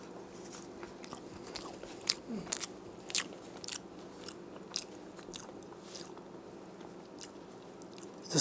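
Chocolate being eaten close to the mic, with scattered crunchy bites and soft chewing and squishing sounds in a quiet room, no talk.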